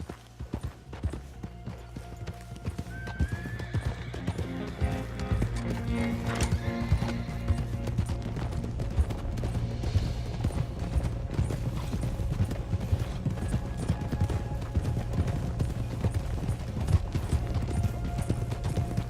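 Thoroughbred horses at a manor's stables in Red Dead Redemption 2, steady clip-clopping hooves close by with a whinny early on and faint creaks amid game sounds.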